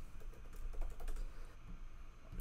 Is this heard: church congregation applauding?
no